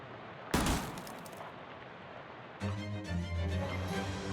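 Gunfire from a shooting attack in the video game Shadows Over Loathing: a sharp burst of shots, then a brighter tonal flourish of game effects that carries on to the end.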